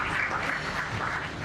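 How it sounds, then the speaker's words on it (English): A conference audience applauds at an official opening, a short burst of steady clapping from the crowd at moderate level. "I don't mind a round of applause."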